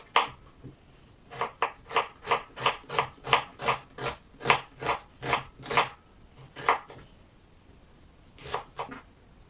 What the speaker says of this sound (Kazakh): Пиязды осылай оны екіге төртке бөліп тураймын.